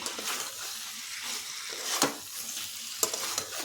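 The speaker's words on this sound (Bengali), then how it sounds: "ফুলকপির সাথে মশলাটা একটু কষে নিতে হবে" Cauliflower being stir-fried with spice paste in a hot pan, a steady sizzle with scraping stirs and a couple of sharp utensil knocks, close and continuous without speech.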